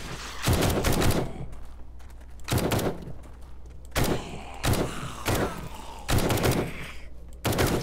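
Bursts of gunfire from the survival video game 7 Days to Die, several volleys of rapid loud shots in separate clusters across the clip, with fainter clattering between them.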